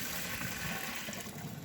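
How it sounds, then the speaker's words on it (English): Hot water from boiling chicken is dumped down a kitchen sink drain, producing a loud, continuous rushing gush of liquid that fills the whole short moment. "Now let's go to the sink. Dump this down to the drain."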